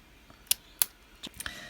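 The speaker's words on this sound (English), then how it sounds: "using my little scissors." Small scissors snip a piece to length for a craft project with a few sharp, close clicks at uneven intervals. No one talks.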